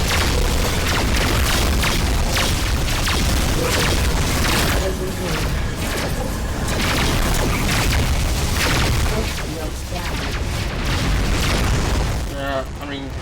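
Heavy missile explosions and booming blasts rumble almost nonstop in the space combat game Rebel Galaxy, loud and dense, with a voice speaking over the battle.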